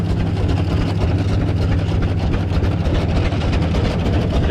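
An old engine idles steadily at an old-fashioned threshing bee, a continuous low, throbbing drone that stays loud and close throughout with no talking.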